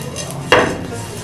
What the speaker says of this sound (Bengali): সামান্য পরিমাণ তেল আমি ফ্রাইং প্যানের মধ্যে ব্রাশ করে দিলাম।